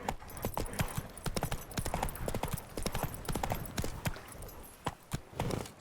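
Roach, Geralt's horse in The Witcher 3, gallops with rapid, steady hoofbeats that clatter loudly throughout, sometimes with a soft background voice.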